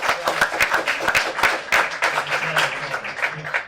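An audience applauds at a book launch event, a steady patter of many hands clapping close by with a faint voice underneath.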